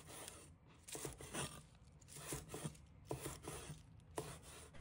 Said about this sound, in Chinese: 1把小葱，把它切成小段。